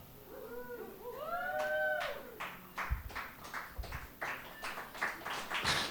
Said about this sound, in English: I love the slow clap